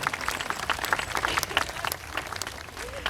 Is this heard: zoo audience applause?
yes